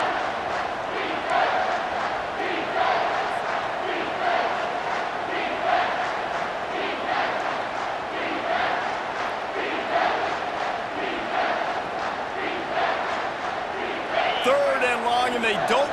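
A dense stadium crowd roars and cheers in EA Sports College Football 25, a loud steady wall of noise that runs the whole time with a brief sharper swell near the end.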